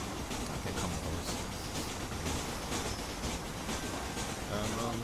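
Train rolling along in the video game Red Dead Redemption, a steady broadband rumble with faint rhythmic clatter running throughout at moderate level, with no clear speech.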